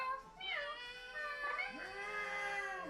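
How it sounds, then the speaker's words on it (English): A couple of cats meowing, one drawn-out harmonic cry after another, sounding somewhat distant and sitting in a tabletop role-playing session. "You hear a couple cats in the distance."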